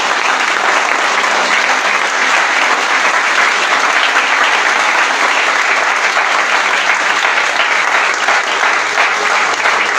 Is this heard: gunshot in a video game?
no